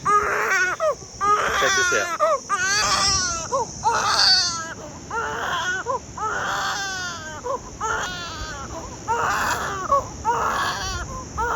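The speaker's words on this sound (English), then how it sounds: "Excuse the screaming baby," A baby screams and cries in repeated loud bursts inside a van, the wails rising and breaking with short gasps between them, while an adult voice speaks briefly.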